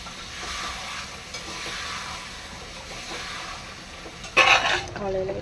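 Leftover tomato rice reheats in a pan with a continuous soft sizzle and stirring scrapes. A louder clatter of utensil against the pan comes near the end.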